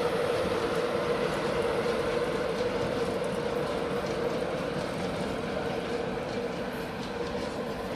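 A train rolls steadily past at Doncaster station with a loud, continuous rumble and an even hum, close and unbroken throughout, without speech.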